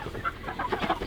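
A Sussex rooster, nearly as big as a meat chicken, gives a run of close, irregular clucks and soft throaty calls with no talking.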